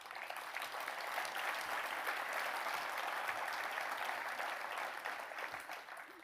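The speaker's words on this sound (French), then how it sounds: "Et on peut aussi vous applaudir." An audience applauds after a mayor's New Year address in a hall, sustained, dense clapping at a steady level for several seconds, slightly distant, easing off near the end.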